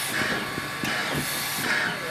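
A steam locomotive on a family Christmas excursion train ride gives off a continuous loud hiss over a low rumble, with a few soft chuffs and knocks.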